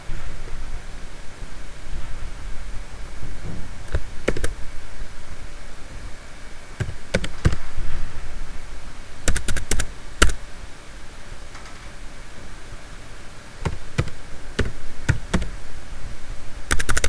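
A company name being typed on a computer keyboard, with scattered sharp key clicks and brief bursts of taps over a steady hiss of background noise, close and fairly loud, no voices.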